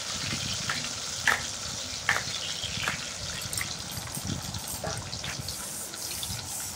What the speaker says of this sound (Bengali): ভিজিয়ে রেখেছিলাম যে কাজু আর কিশমিশটা দিয়ে কিছুক্ষণ নাড়াচাড়া করে নিচ্ছি